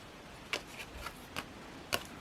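Magic: The Gathering trading cards, including foils, handled after unpacking an eBay package: a few sharp, close card flicks and rustles spaced through a quiet room.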